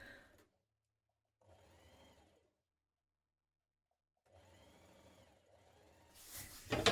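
Home sewing machine stitching a dress bodice seam with a 1.5 cm allowance, two short bursts of quiet rapid whirring separated by silence, followed by a louder rustle of fabric handling at the end.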